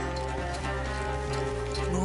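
Horses galloping in the video game Red Dead Redemption 2, a loud, continuous drumming of hooves set against a dense, tonal musical score.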